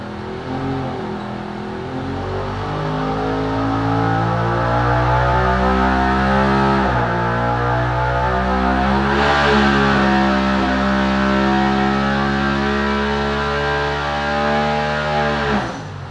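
A Polaris XP Turbo side-by-side engine running at 26 PSI of boost holds a loud, sustained high-revving drone, its pitch climbing and dipping slightly as the throttle is held, then it drops off sharply at the end.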